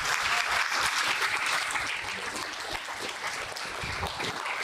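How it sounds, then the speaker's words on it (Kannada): Loud, sustained applause from a theatre audience at the close of a play at an awards anniversary event, dense clapping filling the whole stretch with no talk over it. "ನಿಮಗೆಲ್ಲ ನಾಟಕ ನಿಜಕ್ಕೂ ಇಷ್ಟ ಆಗಿದ್ರೆ, ಮನ ಮುಟ್ಟಿದ್ರೆ ಒಮ್ಮೆ ಜೋರಾದ ಚಪ್ಪಾಳೆ ಬನ್ನಿ."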